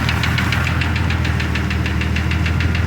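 Engine of a 2002 Jeep Grand Cherokee with a vacuum leak runs loudly up close, a steady rumbling drone with a fast, regular ticking knock throughout.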